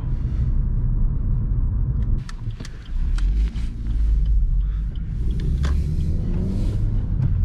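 A Suzuki Vitara 1.4 Boosterjet Allgrip driven on a twisty autumn road, a steady low engine and road rumble from inside the cabin with brief clicks and shifts in tone as it corners.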